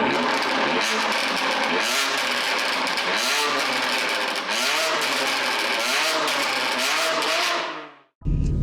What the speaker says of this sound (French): profitez du son de ces échappements